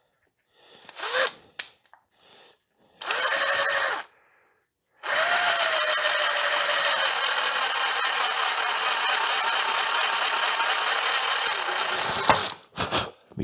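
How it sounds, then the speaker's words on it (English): A hand chamfer tool cuts a screw hole in a wooden grain sample display, with short bursts of gritty scraping that build into a long, steady, loud grinding run and then stop abruptly. "I could just put that in there and chamfer that out, but I've got the tool, so let's try it out."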